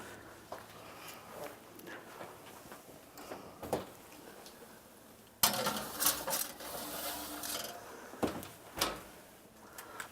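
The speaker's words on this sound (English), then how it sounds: "So now we're just going to pop this in the oven for 35 minutes" An oven door being shut after a dish goes in, a loud sharp clunk midway through, surrounded by lighter kitchen knocks and scrapes, fairly close with no talking.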